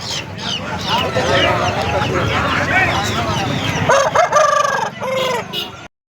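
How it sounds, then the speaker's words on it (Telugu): A rooster crows loudly close by at a poultry market, a long strained call rising over busy background chatter and other birds. "మీరు చూస్తున్న కాకి మెంట పుంజు వచ్చేసి మన దిలీప్ది"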